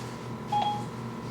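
A single short electronic confirmation tone from Siri chirps once after a timer request, faint and brief against a quiet outdoor background near a Weber grill.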